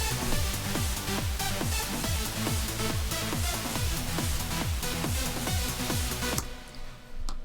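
A trance supersaw lead synth stacked with bass and a thumping four-on-the-floor kick drum plays a steady, dense and loud electronic groove, then cuts off abruptly near the end, leaving a fading tail.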